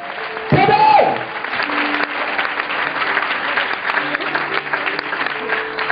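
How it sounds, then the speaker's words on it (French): A church congregation applauds and cheers for Jesus, a steady mass of clapping filling the space after a brief voice at the start, with no single clap standing out. "On peut acclamer Jésus dans la..."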